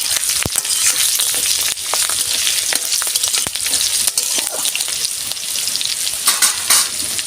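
Chopped vegetables sizzling loudly in hot oil for a Bengali panch mishali chorchori, a dense continuous close crackle and spatter with occasional stirring scrapes, no talking.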